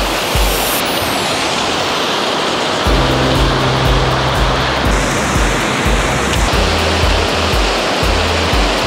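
A mountain stream in the Arans rushes continuously, a loud, broad wash of falling water heard up close, with some low thumps and no voices.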